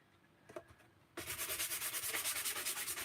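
A sanding block rubs briskly along the edges of a paper tag, with a few light scuffs first and then a loud, rhythmic back-and-forth rasping in quick even strokes.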